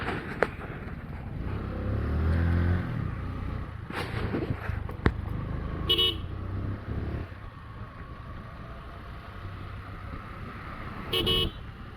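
A car horn honks amid the rumble of road traffic and engines, with a few more short, sharp bursts of noise later on.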